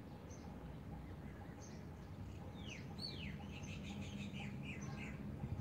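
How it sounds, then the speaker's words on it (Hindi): Birdsong over a steady low hum of background noise, with a few soft chirps early on and then clearer downward-sweeping calls and repeated tweets grouping toward the end, moderately distant and never loud. "पक्षियों की मधुर ध्वनि,"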